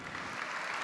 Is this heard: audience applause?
yes